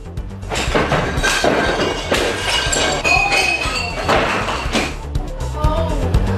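A peacock wandering through a Los Angeles liquor store smashes wine and champagne bottles, giving loud, close bursts of shattering glass and clinking shards over a busy, jumbled background.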